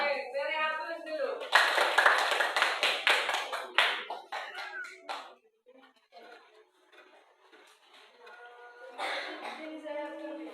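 A classroom bursts into a short round of applause, a dense flurry of many hands clapping that thins into a few scattered claps and taps, with voices talking before and after.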